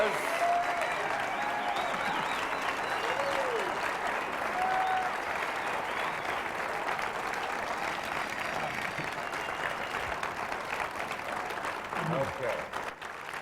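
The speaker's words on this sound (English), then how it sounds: "A very well-deserved round of applause" A comedy festival crowd applauds as a panel walks out, dense sustained clapping that fills the room for a long stretch, with scattered voices and cheers rising through it before it thins slightly at the end.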